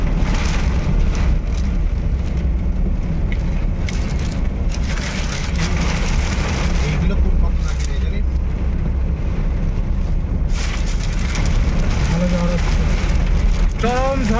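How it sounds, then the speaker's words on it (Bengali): Heavy rain pours in a storm on a road, a loud, steady wash of drumming drops and spray with a running vehicle beneath, lasting throughout without letup. "চরম থেকে চরমতর ঝড় বৃষ্টি হচ্ছে"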